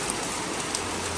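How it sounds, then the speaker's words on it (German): Heavy rain pours down outdoors in November, a dense, even hiss of water falling on surfaces that stays constant throughout with no voices. "Es regnet richtig doll."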